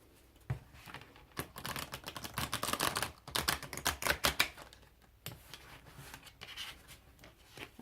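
Tarot cards shuffled by hand give rapid, papery clicking and riffling bursts that come in uneven clusters, loudest in the middle stretch and fading toward the end, with no talking.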